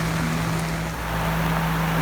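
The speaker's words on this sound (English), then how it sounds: "It's raining." Rain falling on a sailboat at sea in calm, windless weather, a steady soft patter and hiss over a low constant engine hum, with no talking.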